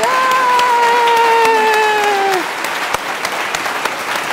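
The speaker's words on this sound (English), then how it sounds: "A round of applause for Robert Hammond." Applause and a whistle-like tonal sound ring out loudly for a couple of seconds at a farewell talk, then fade into scattered claps and room noise.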